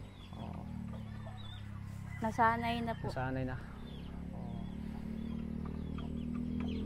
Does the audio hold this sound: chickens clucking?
yes